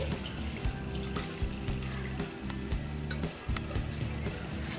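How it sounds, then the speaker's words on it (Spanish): Milk being poured into cooked rice for rice pudding: a steady, close liquid rush with soft bubbling and spoon clinks throughout, and no talking. "Le voy a entonces a vertir la leche."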